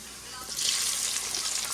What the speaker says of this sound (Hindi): आधी प्याज काटी है और इसको हम सौते कर रहे हैं।